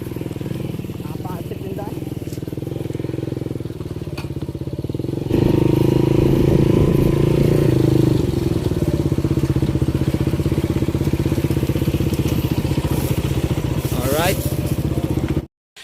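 Motorcycle engines run steadily up close, the rumble growing louder partway through, with voices talking faintly over the noise.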